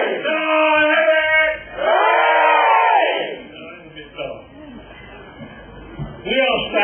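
An outdoor crowd at the opening of Fowlmead, a former coal mining site, gives a big cheer. Loud whoops and shouts swell into a sustained roar, ease off, and then flare up again briefly at the end.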